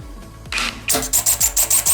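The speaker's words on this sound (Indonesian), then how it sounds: "Lalu tinggal kita skrup aja." A screw is driven into a wall to mount a cabinet, with close, short rasping turns repeating in a quick, even rhythm, with no talking.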